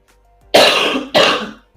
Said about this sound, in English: Also, I have a cough.